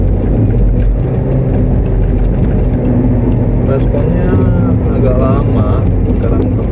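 A 2017 Nissan Grand Livina XV automatic accelerating from about 40 km/h in sport mode: loud, steady engine and road roar that swells gradually, heard from inside the cabin.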